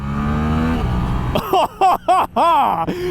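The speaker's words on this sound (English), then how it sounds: "Quickshifter mixed with throttling it all the way up" A 2023 Suzuki GSX-8S motorcycle runs a steady low drone, then revs hard at full throttle, with quickshifter upshifts clipping it into rising, chopped bursts that sweep up and cut off in quick succession, loud and close.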